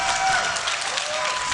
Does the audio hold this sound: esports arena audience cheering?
yes